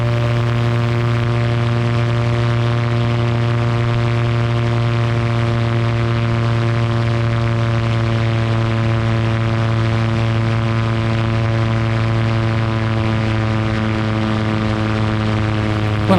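A GT500 light aircraft engine holds steady, high revs during a climb, a loud, unbroken drone with strong tonal harmonics heard from inside the cockpit.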